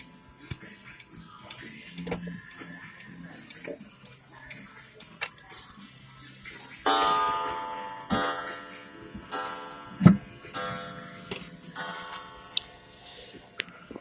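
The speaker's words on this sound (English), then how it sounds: "This is actually my first clock video of me cycling through the chimes." American eagle wall clock with a coil gong chime, ticking steadily up close while resonant gong strokes ring out and sustain, with scattered soft handling noises between them.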